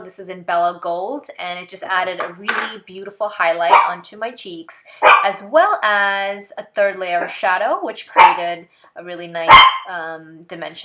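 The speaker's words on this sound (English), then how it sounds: "So sorry about the barking" A pet dog barks in short bursts, moderately loud, under a woman's continuous speech in a home setting.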